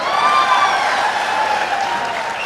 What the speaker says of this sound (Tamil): சினிமா நடிகையோட பேரை சொன்னா என்ன சிறப்பா கைத்தட்டல்